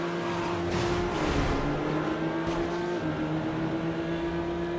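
Engine of the Veloci car in the Midnight Club 2 racing game, a steady sustained drone with a held tonal hum, running continuously and fairly loud with no talk over it.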